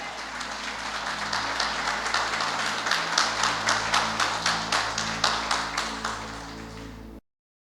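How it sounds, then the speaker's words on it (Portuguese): A church congregation claps together in a steady, rhythmic beat, the even claps building slightly in strength over about seven seconds before cutting off abruptly, with a low hum of music beneath. "Vamos aplaudir bem forte ao Senhor."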